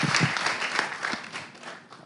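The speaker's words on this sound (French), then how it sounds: "On applaudit très fort pour Madame" Audience welcoming a guest with warm applause, a dense wash of clapping from a crowd that is loud at first and gradually fades out.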